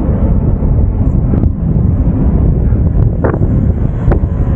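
Steady wind rumbles against the microphone throughout, a low continuous buffeting with a few faint higher sounds poking through.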